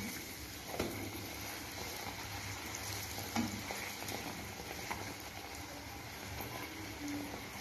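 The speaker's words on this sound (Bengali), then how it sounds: "আস্তে আস্তে লুচিগুলিকে ভাজতেছি।" Luchi puffed breads fry in hot oil, giving a soft, continuous sizzle with faint crackles and occasional clinks, quiet and close with no talk over it.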